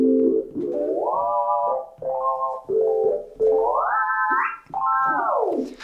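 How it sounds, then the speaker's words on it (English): A jazz chord patch played on a Seaboard steps through alternating major sixth and diminished chords up the scale, each sustained chord gliding and bending in pitch, climbing higher over a few seconds, clear and solo. "So in this patch we've got alternating major sixths and diminished chords, all the way up the scale."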